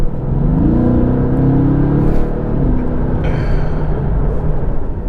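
Close by, a Mercedes-AMG GT sports car engine revs with a deep, steady rumble, its pitch climbing and falling for several seconds. No voices are heard.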